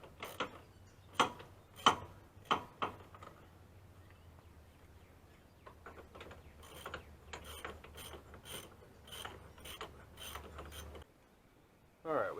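A ratchet tightens the wheel hub bolts on an Infiniti during a wheel bearing hub replacement, with rapid clicking pawl bursts, a few louder cranks, and a steady run of ratchet clicks, close and fairly quiet.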